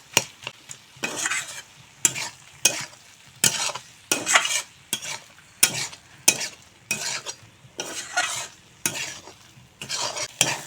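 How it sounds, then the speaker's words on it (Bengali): Fried soybeans are stirred into frying masala in a pan, giving repeated scraping strokes of a spatula in an uneven rhythm over a soft background sizzle, close and clear with no talking. "সয়াবিন দিয়ে মশলার সঙ্গে ভালো করে মিশিয়ে নিয়েছি"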